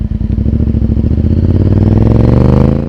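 Honda VTR 1000 F Firestorm V-twin motorcycle engine running loud and close with a rough, lumpy pulsing beat that rises slightly in pitch toward the end as it revs.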